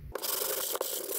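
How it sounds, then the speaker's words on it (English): Sandpaper of 80 or 100 grit mounted on a sanding block rubs steadily over a weight-set part with a continuous, close, gritty scratching and one brief break partway through. "mounted it to my sanding block, and we're gonna sand this out and get it smoothed down"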